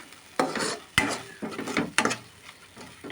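A tempering for stuffed brinjal curry gravy fries in oil, with soft sizzling under several sharp spatula knocks and scrapes against the pan, spaced irregularly and fairly close.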